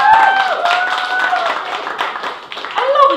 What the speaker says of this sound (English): I love it that you are clapping because I'm drinking water